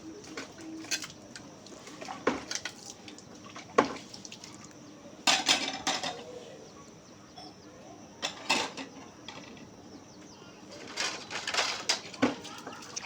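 Plates and bowls being washed during a village morning, with scattered clinks and clatters of crockery and cutlery coming in bursts, while birds and cooing doves call softly in the background.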